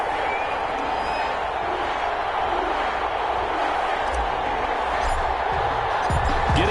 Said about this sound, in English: This crowd is ready as their guys get set to match up between the New England Patriots and the New Orleans Saints.